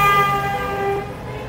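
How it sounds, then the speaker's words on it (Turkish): A car horn blares in a wedding convoy going to fetch a bride in Kahramanmaraş, Turkey, one sustained, loud honk that drops in level and trails off after about a second. "Kornaya basın, kornaya basın bayraklarından güzelce."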